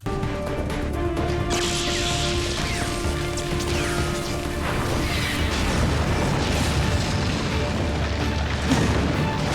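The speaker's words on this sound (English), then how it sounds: "Cool guys don't look at explosions." A loud, sustained roar of crashing and rumbling debris from an explosion in the TV show Arrow, with bursts and clatter throughout and no voices.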